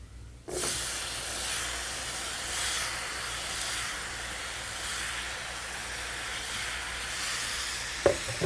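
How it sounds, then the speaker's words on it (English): Diced plums hitting hot spice-infused oil for an Indian plum chutney set up a loud, steady hiss from the start that holds evenly throughout, with a brief knock near the end and no voices. "And now we're going to toss in our diced plums."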